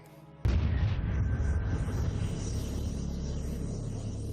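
A Big Bang explosion effect gives a sudden loud boom followed by a long, dense roaring rumble that stays heavy and sustained to the end.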